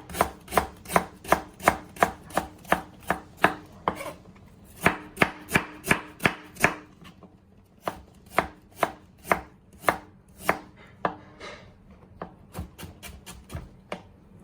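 A knife slicing ginger thinly on a cutting board gives sharp, evenly paced chopping taps close by, around two per second, with short pauses between runs.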